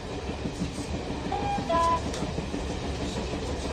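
Train rolling along rails as a radio drama sound effect, a steady dense rumble with a faint whistle-like tone rising briefly in the middle, continuous and moderately loud.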